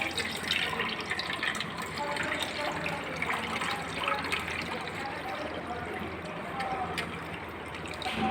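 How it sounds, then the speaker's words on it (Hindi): Water is poured steadily into a container holding a coin for a refraction experiment, making a continuous close trickle and splash throughout. "मैंने यहाँ पे पानी डालना स्टार्ट किया"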